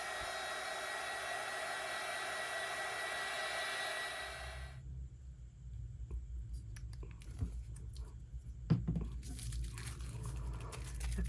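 A dryer blows on an altered craft puzzle piece, a loud, close, steady whirring hiss for about four and a half seconds that cuts off abruptly, followed by soft handling rustles and crinkly clicks.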